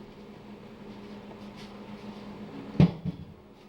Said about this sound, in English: You're gonna close some cupboard doors for change?